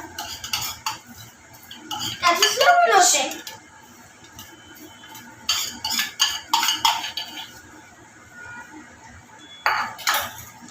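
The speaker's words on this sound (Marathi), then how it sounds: "आता बटाटा आपल्याला चांगला मॅश करून घ्यायचा आहे" Boiled potato gets mashed in a pan with a metal utensil, giving bursts of scraping and clinking clatter separated by pauses, with a person speaking nearby between and over the strokes.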